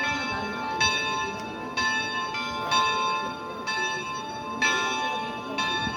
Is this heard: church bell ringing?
yes